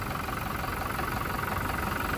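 Toyota Hilux double cabin with a 2400cc VN turbo intercooler engine running, a steady, close, loud mechanical drone with a fine rapid pulsing throughout and no speech.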